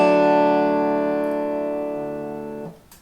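Dobro strings tuned to open D ring out in one strummed chord close to the mic. The chord sustains and slowly fades for nearly three seconds before it is damped. No one speaks.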